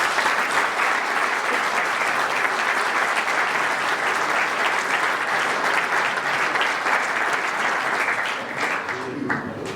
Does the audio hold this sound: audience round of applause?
yes